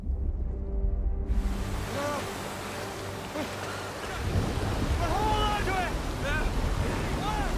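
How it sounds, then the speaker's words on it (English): Rough sea surges and crashes under strong hurricane wind gusts, with a blustery roar throughout and a voice talking over it. "a hurricane visited them and stirred up enormous waves"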